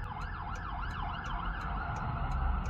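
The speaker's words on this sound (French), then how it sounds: "Ambulance." An ambulance siren wails continuously in a smooth rising and falling sweep, loud and steady over a rumbling low hum of traffic or engine noise.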